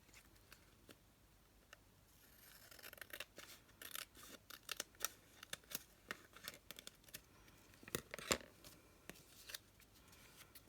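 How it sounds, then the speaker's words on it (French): Scissors trim the edge of a small paper art card, a quiet series of crisp, irregular snips and rustles close to the microphone with no voices. "Je peux redonner un petit coup de... de ciseaux dessus."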